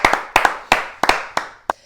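A handful of hosts clap for their guests in a studio with no audience. Sparse, sharp hand claps come in uneven bursts, about seven distinct clusters over two seconds, close to the microphone and without a wider crowd.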